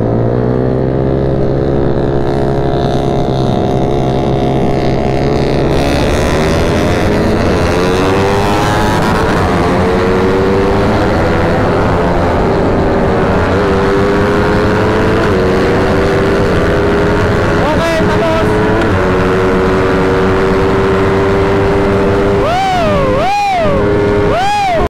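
A Suzuki Raider 150 FI motorcycle engine strains while climbing uphill in a road race. It drones loudly and steadily, with shifting harmonics as the revs change and a sharp rev burst near the end.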